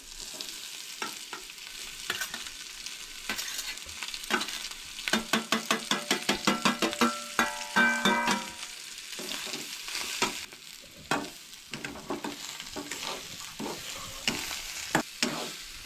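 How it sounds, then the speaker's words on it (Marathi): Onion and sprouted moong sautéed in a pan for a Goan sprouted moong curry, a constant close sizzle with quick rhythmic stirring strokes, a fast run of scrapes in the middle and scattered clinks throughout. "तो सगळें हांगसर बरें भाजून घेवंक जाय म्हणजे बरें परतून घेवंक जाय"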